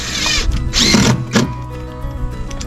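A power drill whirs in short bursts while driving screws into the exterior wall of a dog apartment build, loud and close, with pauses and a steady background hum between the runs.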